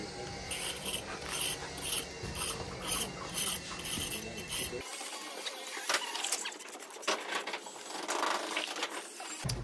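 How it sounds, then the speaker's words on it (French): A pointing tool used like a knife scrapes surplus mortar from a joint while a facade is renovated, giving steady rasping scrapes, close and fairly quiet, in repeated strokes. "Moi, j'utilise comme un couteau, tu vois. Et je viens découper le joint qui est en surplus."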